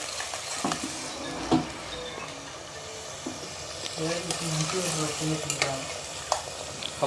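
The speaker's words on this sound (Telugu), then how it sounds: "ఇక వేగుతున్నాయి చూడు ఉల్లిగడ్డలు" Onions fry for a mutton curry, a soft sizzle under rhythmic scraping and clinks of a ladle stirring the pan, with a person talking nearby over the cooking.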